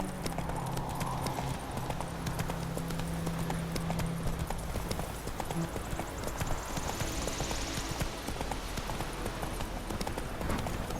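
Roach, a horse in The Witcher 3, clip-clops along steadily at a walk, hoofbeats continuous and fairly close, with a brief whinny early on, over an ambient game soundscape.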